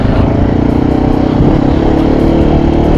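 Mondial Rx3i motorcycle engine running close and loud, a steady, throbbing single-cylinder idle that holds evenly with no talk.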